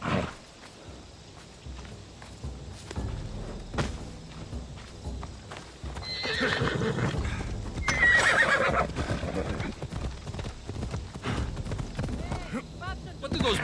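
Horse hooves clopping and a horse neighing in the game Assassin's Creed Odyssey, quiet at first, then louder and busier from the midpoint, with a brief bright whinny and steady footfalls under game ambience.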